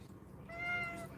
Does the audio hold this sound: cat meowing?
yes